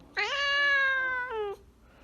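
A single drawn-out meow, clear and close, holding steady for over a second before a brief upturned ending, with quiet around it.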